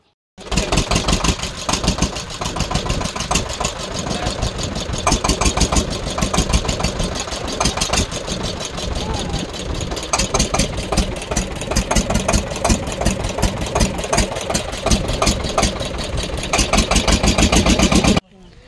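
Continuous mid-pitched chugging of a motor boat engine running steadily as it nears the Pakhiralay landing ghat in the Sundarbans, loud and close for the whole stretch with a regular throbbing rhythm.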